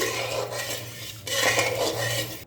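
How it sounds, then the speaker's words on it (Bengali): A utensil stirs and scrapes steadily in a pan as sugar is mixed into water for mango chutney, with a continuous metallic rubbing and a faint low hum underneath, no voices. "ভালো করে মিশিয়ে নিচ্ছি"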